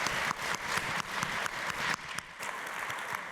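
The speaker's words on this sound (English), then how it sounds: "you can give him a round of applause as he comes on stage." An audience at a university startup competition applauds as a judge walks on stage, a sustained wash of many hands clapping at moderate distance with a few sharper individual claps standing out.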